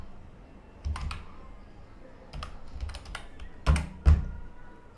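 Bursts of typing on a computer keyboard, close and clear, with clusters of sharp key taps separated by short pauses and a couple of heavier strikes near the end.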